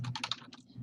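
A quick burst of four or five keystrokes on a computer keyboard, close and fairly quiet, with no talking.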